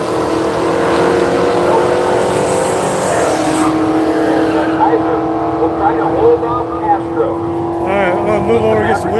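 A red drag race car launches down the strip at Seattle International Raceway, its loud engine roaring and climbing in pitch over several seconds while an announcer talks over it.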